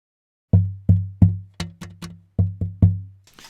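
An acoustic guitar body is tapped percussively, picked up by an L.R. Baggs Lyric internal microphone: about ten close, resonant knocks in an uneven rhythm, each with a boomy low thud and short decay.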